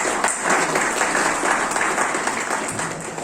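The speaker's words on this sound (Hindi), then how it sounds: "मैं सदन से विनती करूंगी कि जेसीरेट सभापति डॉली गुप्ता एवं पूरी टीम के लिए जोरदार" Loud, sustained applause from an audience in an assembly hall at a JCI annual report meeting, dense clapping continuing throughout without a break.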